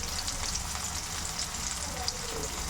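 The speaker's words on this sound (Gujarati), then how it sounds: "ધાણા જીરું, મરચું નાખીશું અને" Coriander, cumin and chili powder fry in hot oil with turmeric, a dense, steady, close hiss and crackle running throughout with no pause.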